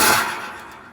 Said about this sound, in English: This is a rocket taking off.